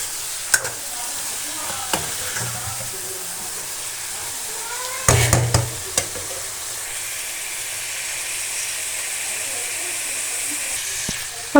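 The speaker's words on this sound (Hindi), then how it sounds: "हमने गोभी आलू को भून लिया ऑयल में" Cauliflower and potatoes fry in oil in a home kitchen, a steady soft sizzle and hiss running throughout, broken by a few clinks and a brief stirring clatter near the middle.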